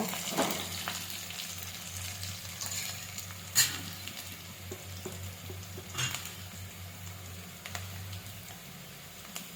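Chopped onions fry in a pan for an egg and cabbage palya, a steady close sizzle and crackle running throughout, with a few soft clicks of a utensil and no voices.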